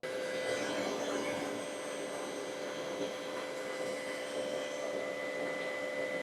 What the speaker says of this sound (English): It's a huge shop vac.